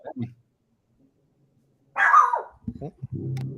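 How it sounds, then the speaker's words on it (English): An excited dog yips with a short high whine at the start, then a sharper bark-like yelp after a pause, followed by a brief mumble of a voice. "dog's excited"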